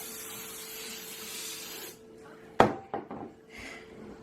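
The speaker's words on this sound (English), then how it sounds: "I'm just using my coconut spray oil for the cookie sheet itself." Coconut oil cooking spray hissing steadily onto a cookie sheet for about two seconds, followed by a few light clacks as the can and sheet are handled, close and quiet.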